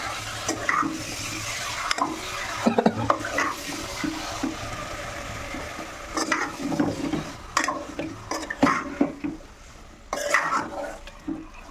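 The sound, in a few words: stirring chicken curry in a pan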